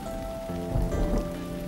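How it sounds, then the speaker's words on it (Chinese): Heavy rain pours down steadily, a dense close wash of sound with a low rumble swelling briefly in the middle. The burst is short and no one speaks. "又大雨倾盆"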